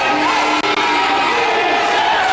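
A wrestling crowd at a Mid Pro Wrestling event jeers and shouts at a stalling wrestler, a loud continuous roar of many voices with whoops throughout.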